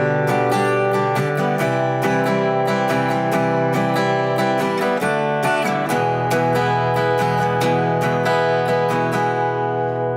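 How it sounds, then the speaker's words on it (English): Acoustic guitar chords strummed steadily in a repeating rhythm, bright and close, with no voices. "Now we're going to add in some strumming with that"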